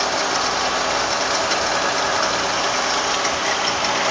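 A 1960 Ford Ranchero barn-find engine idling, a loud, steady, continuous close rumble with a rough mechanical rattle and no breaks.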